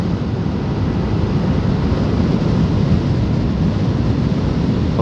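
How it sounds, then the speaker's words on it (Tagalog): Strong wind buffets the microphone during a motorcycle ride on a Suzuki Sniper 155R near Taal, a loud, constant low rumble that doesn't let up. "Lakas ng hangin dito talaga eh."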